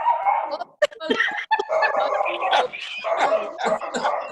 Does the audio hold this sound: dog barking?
yes